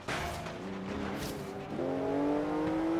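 Porsche Cayman GTS engine heard from the cabin in the racing game Forza Horizon 3, a steady mid-pitched drone that climbs sharply in pitch as the car accelerates.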